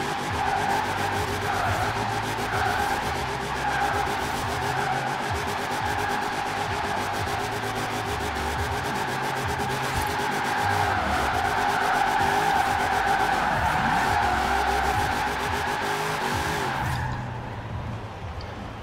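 Plymouth Bubble Top drag car doing donuts, a continuous loud tire squeal over a wavering engine drone that rises and falls as the car spins, cutting off near the end.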